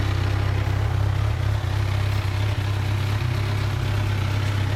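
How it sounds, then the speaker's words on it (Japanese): A 2017 Kawasaki Ninja 1000 motorcycle engine idling, a loud, close, steady low rumble with even throbbing pulses, continuous for a few seconds. "すみません、エンジンかけてもらえますか？"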